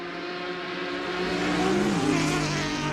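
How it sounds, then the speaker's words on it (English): Race car engines from a Porsche and a Lotus in a GT4 sim racing game at Road America whine continuously, pitch rising and dipping slightly as the cars run close together, steady and fairly loud. "It's so tough for Eli because he's attacking the Porsche and also defending from the Lotus."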